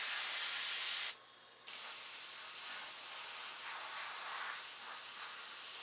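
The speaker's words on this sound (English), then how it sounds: "Spray the inside of that real good." Antique white spray paint hisses from an aerosol can into the inside of an elk taxidermy ear, a steady close spray broken by one short pause before it resumes.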